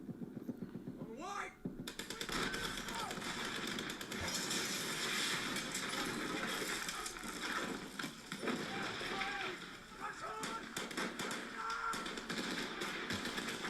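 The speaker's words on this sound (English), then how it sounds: "So now there's an American soldier firing a machine gun, a Browning machine gun" Browning machine gun firing in a war-film scene from Fury, a dense continuous clatter of battle noise under steady talking throughout.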